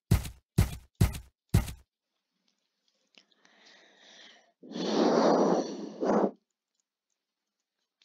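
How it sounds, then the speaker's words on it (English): Close-up breaths into a microphone, a soft raspy inhale then a louder, rushing exhale, preceded by four sharp thumping knocks, all heard alone with no talk. "like me breathing, breathing, breathing, breathing into my mic?"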